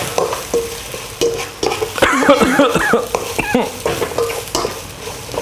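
Chili curry paste being stir-fried in a pan for a northern Thai beef curry, with a close sizzle and repeated scraping strokes of the spatula. A voice and a brief cough cut in partway through.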